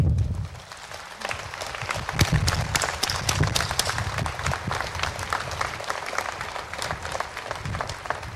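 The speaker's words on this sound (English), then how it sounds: "could we please have a round of applause for the families here with us today?" A commencement audience at UTB TSC applauds the families in attendance, a loud, dense crowd clapping that continues steadily throughout with slight swells.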